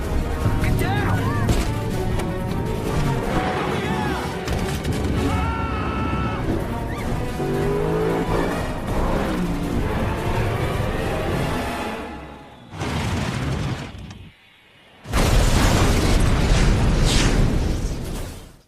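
A pursuing car plunges off a cliff into a ravine in a film action scene, with blaring horn-like tones, rushing motion and a sudden crash and burst after a brief hush, a narrating voice over much of it.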